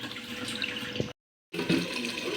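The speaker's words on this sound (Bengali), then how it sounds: "এই যে চালটা ধুয়ে নিচ্ছে কষলিয়ে কষলিয়ে ভালোভাবে ধুয়ে নেওয়া হচ্ছে" Rice rubbed and rinsed in water by hand, a close continuous sloshing and swishing broken by a brief silent gap before the washing resumes.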